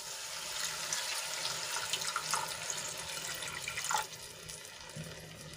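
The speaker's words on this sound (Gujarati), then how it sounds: "હું એક ગ્લાસ જેટલું પાણી એડ કરું છું" Water pours steadily into a cooking pan of gravy with a continuous splashing rush, close by, then briefly gurgles and settles lower.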